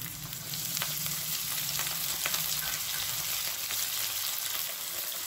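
Carrot, beans and cabbage fry in a pan for vegetable fried rice, with a steady close sizzle and occasional stirring scrapes running throughout without any talk.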